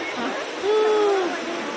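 River water at Thirunelli rushes in a steady broadband wash close by, with a brief thin whistle-like tone rising above it midway.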